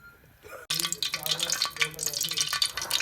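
Hot cooking oil in a kadhai over a gas flame breaks into a loud, steady sizzle after a quiet start, crackling close up and continuing to the end.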